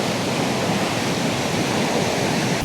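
Water forced out under pressure from the lower shutter of a dam at Palappilly, Thrissur, roaring as a loud, steady, dense rush with no letup, alone and close.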